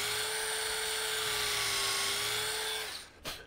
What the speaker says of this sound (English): all we're going to do is drill a tap drill hole